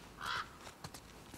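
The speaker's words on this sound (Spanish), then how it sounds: "Otra vez un cuervo que te..." A crow caws in the video game The Last of Us Part II, with a single harsh, raspy call near the start followed by a few faint scattered sounds, heard alone without speech.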